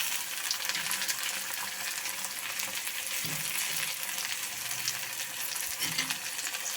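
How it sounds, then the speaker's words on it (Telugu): Chopped garlic and beans fry in a pan, giving a dense, continuous sizzle with a few soft stirring scrapes, close and steady, with no voices. "బీన్స్ వేసాక అటు ఇటు వీటిని అన్నిటిని కలపాలి."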